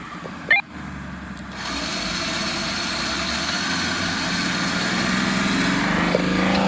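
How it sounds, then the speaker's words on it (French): An Ineos Grenadier 4x4 engine idles steadily, then its drone rises and holds at a higher, louder pitch after a short knock at the start, revving too high. "Tu montes trop dans les tours."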